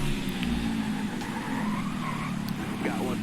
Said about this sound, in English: You can hear the car locking up a bit.